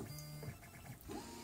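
A 3D printer works through a 7x7 mesh bed leveling calibration, giving faint, close motor whirs and soft stepping pulses in a quiet room with no talking.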